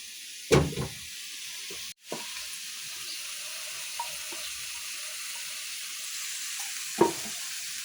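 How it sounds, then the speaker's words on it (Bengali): Potatoes for aloo bhaji fry in a pan with a faint, steady sizzling hiss, broken by a few sharp clatters of utensils stirring, in a quiet kitchen. "এখানে এখন আলু ভাজি করছে।"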